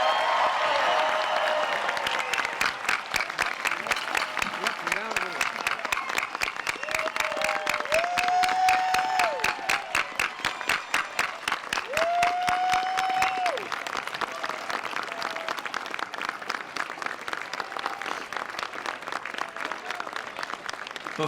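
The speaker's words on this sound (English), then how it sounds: "Let's give them one more round of applause." Sustained applause from a large crowd at a high school graduation ceremony, dense steady clapping with a few faint whistles and cheers, running the whole time.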